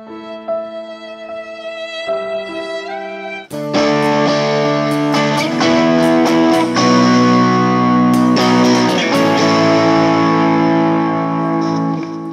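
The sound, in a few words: electric guitar through delay and reverb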